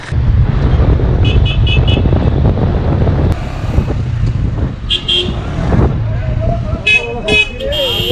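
Busy street traffic in Cairo heard from a motorcycle: steady loud engine rumble and wind buffeting, with several short car horn toots scattered through, partly under a voice talking.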